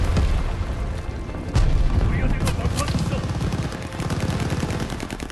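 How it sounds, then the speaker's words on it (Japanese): Call of Duty Vanguard combat with booming blasts and rapid gunfire bursts, including a heavy explosion partway through from an enemy glide bomb, dense and loud throughout. "敵の滑空爆弾が近づいている"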